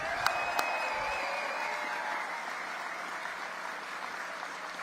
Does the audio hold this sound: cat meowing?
no